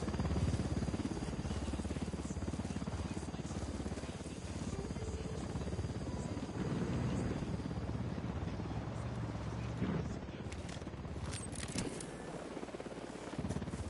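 Helicopter rotor wash and engine drone in a video game, a steady dense roar filling the whole stretch, with radio-style voices talking over it.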